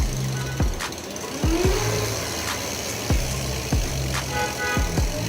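An electric bicycle's rear wheel spins fast in pedal-assist mode after two slow pedal strokes, giving a steady mid-pitched motor whir with a few sharp ticks and clunks spaced through it, close by.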